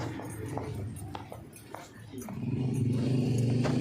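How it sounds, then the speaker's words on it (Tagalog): A dog growls low and rumbling, the growl swelling and holding steady after a few short, faint sounds at the start. "Malayo dyan may aso."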